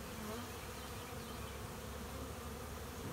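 Honeybee drones buzzing close by in a swarm nested inside a car door, a dense, steady insect drone with no talking over it.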